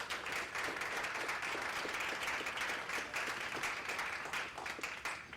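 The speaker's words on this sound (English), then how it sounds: "I will start with a quick round of applause for all of our candidates who are here tonight and everyone" A room full of people gives city council candidates a round of applause at a Cambridge candidate forum; the clapping is quiet and distant yet continuous and evenly textured for the full stretch.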